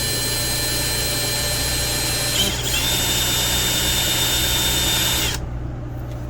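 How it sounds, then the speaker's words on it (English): A power drill bores a hole in slate tile, whining steadily and loudly at close range for about five seconds before cutting off, leaving a softer hum. "basically you just push down and drill the hole"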